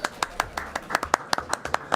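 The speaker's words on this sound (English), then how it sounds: "Applause, wow." Audience in a city historic preservation commission chamber claps in a quick, regular run of sharp, distinct hand claps across two seconds, sounding like a small group rather than a full crowd.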